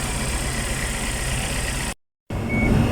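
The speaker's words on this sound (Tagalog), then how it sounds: "There's an engine shaking." A Suzuki APV engine with a defective ignition coil runs close by with a rough, rumbling idle. The sound cuts out briefly and then comes back.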